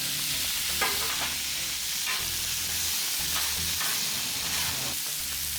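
Onions and mushrooms sizzle on a Blackstone griddle set to low, a steady close hiss of frying with occasional scraping stirs throughout, no talk.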